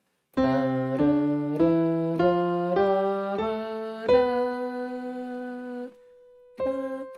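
Musical scale played note by note on a keyboard, clear steady tones stepping upward, the last note held longer, then a single note sounded again after a brief gap.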